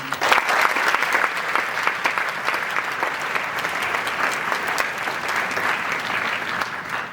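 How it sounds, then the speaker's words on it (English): Sustained applause from a large audience at a region band concert, dense and steady clapping filling the hall for several seconds without any speech over it. "So a big round of applause for them"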